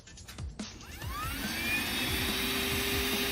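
A handheld car vacuum cleaner motor whirs up and settles into a steady, loud high-pitched drone with a constant whine, no voices.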